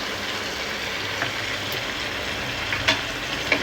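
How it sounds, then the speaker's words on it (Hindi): Chicken fries in a pan with a soft, steady sizzle and crackle, broken by a few faint stirring clicks, heard alone without talk. "अब इसको चिकन को फ्राई कर लेंगे"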